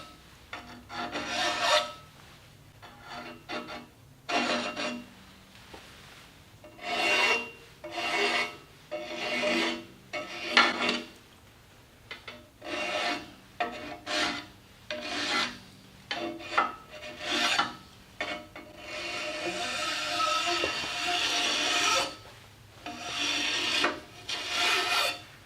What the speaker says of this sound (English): when you're hand scraping, you got to watch your edges a lot